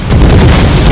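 A grenade blast from the Empire: Total War battle game, a single loud, dense, full-band burst that fills the whole second without fading.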